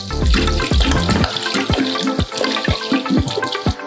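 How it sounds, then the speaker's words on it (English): Water is poured onto mangroves in a reef pond, splashing and pouring steadily, with a series of sharp, hollow drips and slaps as it lands close by. "So we're gonna water the mangroves."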